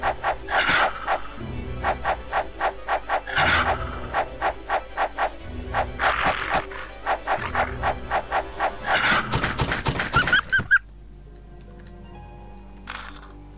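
A red wolf creature in the video game Might & Magic 9 gives a rapid series of loud, sharp barks and yelps in bursts, then goes silent before one last short bark.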